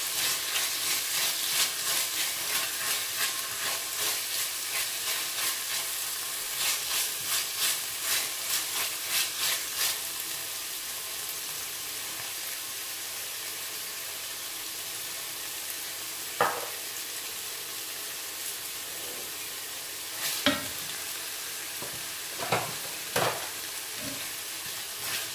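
Tomato paste fries in a pot for cuttlefish stew with peas, a bright continuous sizzle with rhythmic stirring strokes early on, then calmer hissing broken by a few spoon knocks against the pan.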